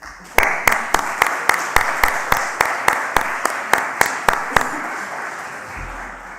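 Audience at an annual young forest researchers' meeting clapping in a slow, steady rhythm, with about fifteen sharp, evenly spaced claps over a soft background of scattered applause that stops abruptly near the end.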